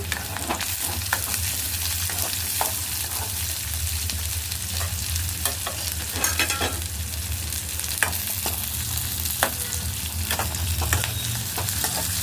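Boiled chickpeas and broad beans sizzle in a pan, a constant close frying hiss with scattered sharp crackles and stirring scrapes throughout, no voices.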